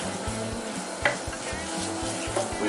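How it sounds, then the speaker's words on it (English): Cheese melting into a creamy sauce in a pot for mac and cheese is stirred steadily, a soft scraping swish against a faint sizzle, with a few light clinks of a spoon on the pot. "We're going to give that a stir."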